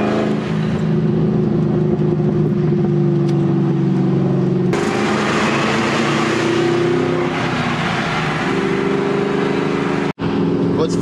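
A car engine idles and revs with a steady rumble, the exhaust note through Borla ATAK exhaust tips rising and popping and crackling in bursts before cutting off near the end.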